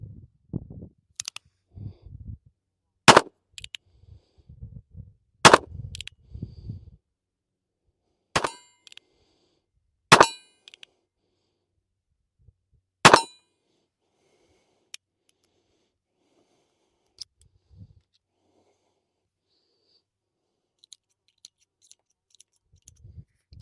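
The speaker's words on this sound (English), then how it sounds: "I think we're gonna shoot Aguila for the rest of this video." A North American Arms .22 Short mini revolver firing Aguila ammunition outdoors: about six sharp, loud shots spaced a few seconds apart, with quiet handling noises between them and no talking.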